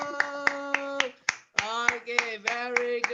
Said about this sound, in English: Give yourselves a very big round of applause.